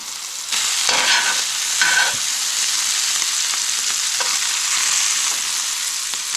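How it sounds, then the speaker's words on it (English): Walleye fillets sear in a very hot pan with a loud, steady, broadband sizzle and a few stirring or shifting scrapes, close and continuous, with no talking. "We want the pan pretty hot and just basically a quick sear on both sides is all you want."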